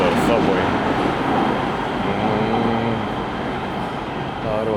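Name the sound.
subway train at 7th Street Metro Station, Los Angeles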